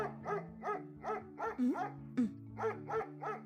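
A dog gives a steady series of rhythmic barks and yips, about two per second, fairly faint over a low tonal background.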